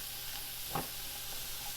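Onions sautéing in a pan of Cajun-seasoned bacon drippings give a steady close sizzle and hiss, with one brief stirring scrape partway through.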